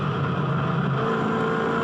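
V8 Ute race car at Eastern Creek, its engine droning steadily on the throttle, loud and continuous with no voices over it.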